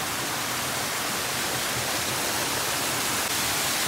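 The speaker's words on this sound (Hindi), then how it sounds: "यहाँ पे देखिए कितने प्यारे प्यारे यहाँ पे झरने बह रहे हैं।" Mountain waterfalls near the Rohtang Pass road in the Manali area, after a flood, give off a continuous broad rushing roar. The sound stays steady and even throughout, with no voices.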